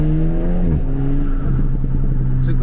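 Alpine A110 with a stage 2 tuned turbo engine revving, loud and close, with a raspy intake and exhaust note that rises, drops back, then settles into a rough idle with clattering texture.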